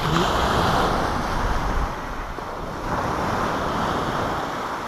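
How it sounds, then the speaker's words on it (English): Waves break and wash up a beach at Barton on Sea, a loud rushing surge that eases then swells again, with strong wind buffeting the microphone. "Take another wave. Bring it up the beach."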